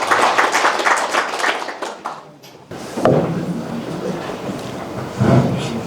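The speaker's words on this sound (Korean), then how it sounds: "큰 박수로 맞이해주시기 바랍니다" Applause from a lecture-hall audience welcoming a lecturer at a Confucian college class, a steady wash of many hands clapping that thins out partway through before scattered claps and room noise continue.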